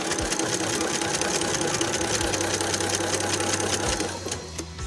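A sewing machine runs steadily at a rapid, even stitching rhythm, close by, then slows and stops near the end.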